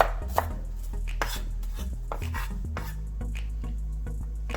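Onion is sliced thinly with a knife on a cutting board, making a quick run of sharp, close chopping taps in an uneven rhythm.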